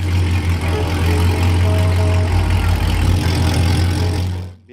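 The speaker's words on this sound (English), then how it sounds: "it's a great car with a killer engine note." A drift race car's engine runs steadily and loudly up close, a deep, constant low rumble with a slight dip in pitch midway, cutting off at the very end.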